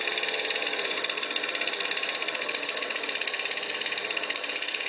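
A lawnmower engine fitted with a Geet fuel processor runs steadily nearby, a constant rattling, buzzing drone with no breaks and no talk.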